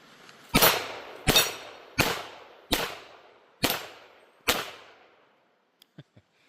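Six sharp, evenly spaced shots from a Taurus TX22 pistol during rapid acquisition shooting, each crack followed by a short decay, then a few faint metallic clicks at the end.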